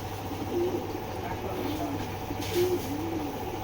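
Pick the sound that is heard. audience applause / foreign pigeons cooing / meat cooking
foreign pigeons cooing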